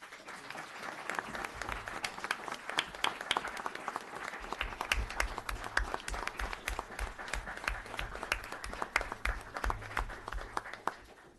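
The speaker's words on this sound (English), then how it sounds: "Can I get a round of applause for" Applause from the audience at a town board meeting: steady, fairly faint clapping that carries on evenly for about eleven seconds and tails off at the end.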